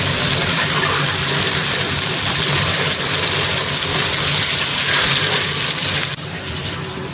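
Water poured steadily into a pot of Bengali fish curry (macher jhol), a continuous loud gushing that runs for several seconds and then eases off slightly toward the end.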